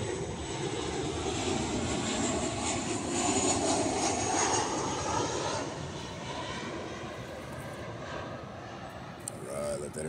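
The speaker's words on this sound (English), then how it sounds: "I got an airplane coming." A propeller or jet airplane passes overhead, a broad steady roar that swells and slowly fades over ten seconds, with faint talk at the end.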